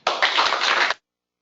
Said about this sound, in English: let's give him a round of applause before he starts his talk